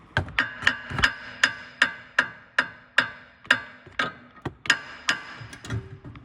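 Hammer blows drive down a Range Rover suspension arm: about a dozen sharp metallic strikes at a steady pace of roughly two per second, close and loud, with a few quicker, softer taps near the end.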